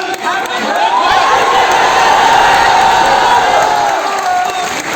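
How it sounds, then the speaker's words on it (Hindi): A crowd at a birthday cake-cutting meetup in Patna cheers and shouts loudly together, a dense, sustained roar of many voices that stays strong throughout and eases off slightly near the end. "और एक बार सभी चिल्ला करके हैप्पी बर्थडे सर"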